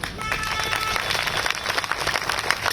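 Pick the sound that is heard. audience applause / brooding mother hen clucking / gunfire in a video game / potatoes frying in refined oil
audience applause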